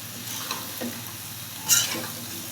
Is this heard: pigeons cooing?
no